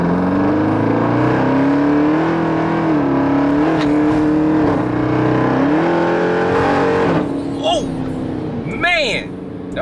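A modified Jeep Trackhawk engine drones loudly at speed, its steady pitch rising and falling with rev changes, while people talk over it inside the vehicle.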